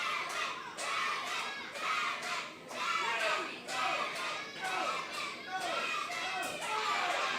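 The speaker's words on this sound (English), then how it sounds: "Crowd hot here for Devin." Wrestling crowd roaring and chanting for Devin at an indie show, loud surging shouts and cheers in waves, with a commentator talking over the noise.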